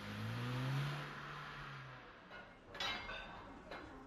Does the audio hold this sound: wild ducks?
no